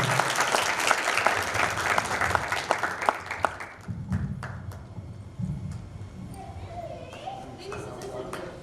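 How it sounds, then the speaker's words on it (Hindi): A hall audience claps loudly at the 30th national theatre festival at Manas Bhavan in Damoh, a burst of dense applause lasting about four seconds before it fades into quieter room noise with some voices. "और ये थे हमारे सबके महागुरु राजीव व्याची जी, उनके लिए जोरदार तालियां।"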